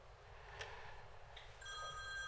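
A telephone rings briefly and faintly during a televised economics talk on Germany's growth, a short electronic trill standing alone over low background hum.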